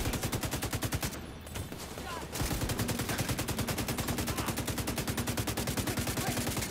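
Rapid automatic gunfire in the shooter game The Division 2, a steady fast stream of loud shots that breaks off for about a second, then resumes and carries on to the end.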